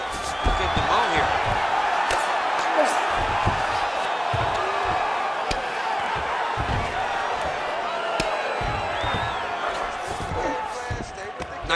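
Crowd cheering and roaring in the UFC 5 video game as fighters return to their feet after a long grappling exchange, a steady dense arena roar throughout with a commentator talking over it.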